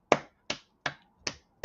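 A crowd claps in five sharp, evenly spaced cracks about a third of a second apart, crisp and close, with no talking.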